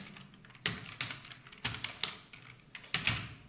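Typing on a computer keyboard while entering an MS Excel formula: a few scattered, fairly quiet key clicks and taps spread unevenly over a few seconds with low room noise and no talking.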